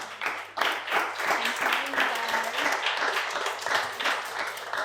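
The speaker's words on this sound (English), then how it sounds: "Round of applause, I think, is due." Audience applause at the end of a music bootcamp masterclass, a moderate scattering of hands clapping with audible individual claps, mixed with a low steady hum and some murmured talk underneath.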